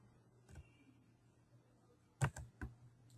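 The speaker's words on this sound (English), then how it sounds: "If you type SVN log" Several sharp key clicks on a computer keyboard as the svn log command is typed, a quick cluster of taps near the end after a single earlier press, close and fairly quiet over a low steady hum.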